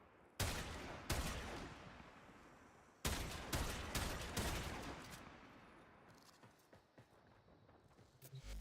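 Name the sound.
sniper gunfire in a video game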